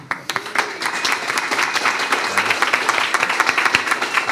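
Sustained audience applause at a hacker conference in Brooklyn, a dense steady patter of many hands clapping at close range, rising quickly and holding for several seconds as the crowd votes for a contestant.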